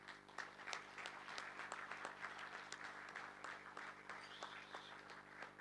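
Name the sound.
applause for Seema Ghazal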